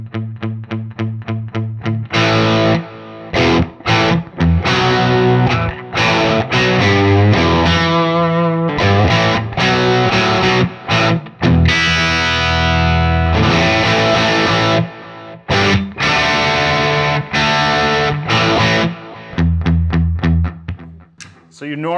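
An electric guitar runs through a Metro-Plex MK II 100-watt amp with the bright channel and its 500 picofarad bright cap blended in, giving loud, driven chords and riffs with sharp attack, played continuously and up close.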